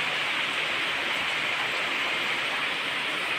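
Steady rain falls around a home, a constant, even hiss that never pauses or swells, with no voices over it.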